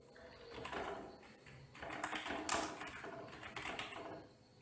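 Quick clicking keystrokes on a computer keyboard as a name is typed, close and steady over a faint room hum, with a slightly louder burst midway.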